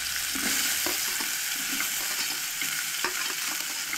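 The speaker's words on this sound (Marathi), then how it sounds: "इल्लेशें तेल ऍड केल्लें आसा आमी हांगसर आनी बारीक जो कांदो कट करून घेतला तो हांगसर ऍड करून घे" Steady, crackling sizzle of finely chopped onion frying in hot oil, with occasional scraping stirs, close up and continuous, no talking.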